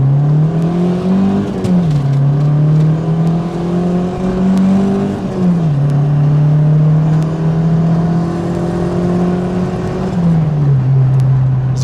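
A Lancer sports sedan's engine revs steadily and loudly, climbing and dropping in pitch across several gear changes as it accelerates, with no talk over it.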